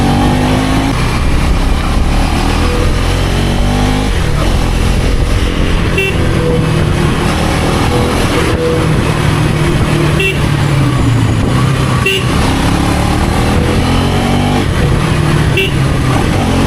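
A Yamaha RX motorcycle engine revs loudly and steadily up close, its buzzing two-stroke note rising and falling in repeated throttle blips without pause, with faint talk barely present.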